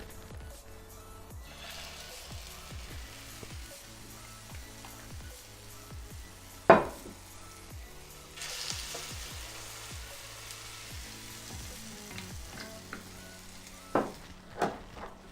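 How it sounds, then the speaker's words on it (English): Batter frying in a pan for a low-carb breakfast gives a steady close sizzle throughout, broken by light clicks and scrapes of a utensil and one sharper clatter midway, with no talking. "once we've done this, we're gonna go ahead and fry"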